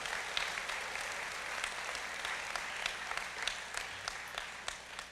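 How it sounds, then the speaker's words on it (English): Audience applause for Choctaw Nation staff at a State of the Nation address, a steady wash of many hands clapping with scattered sharper claps, moderately loud and without speech. "Let's give them a big round of applause for all that they do."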